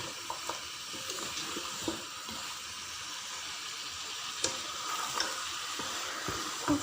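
Mutton paya cooks with masala in a pot, producing a soft continuous sizzle with wet squelching and occasional spoon scrapes as it is stirred, fairly quiet and without voices.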